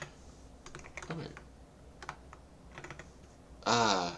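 Bursts of computer keyboard typing, quick irregular clusters of key clicks close to the mic in a quiet room, ending in a short louder clatter.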